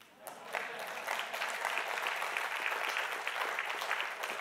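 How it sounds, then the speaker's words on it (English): Audience applause after a talk on Christian faith and democracy, a steady wash of many hands clapping that swells in after a brief pause and holds evenly, moderately distant and filling the room. "Some applause for that would be good."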